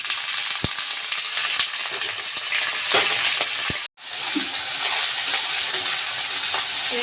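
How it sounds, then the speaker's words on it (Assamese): Chopped jackfruit and onion fry in a pan for a jackfruit sabji, a steady close sizzle with scattered light stirring clicks, briefly cutting out for a moment midway before resuming. "এতিয়া মই ধুনীয়াকৈ এইটো ফ্ৰাই কৰোঁ"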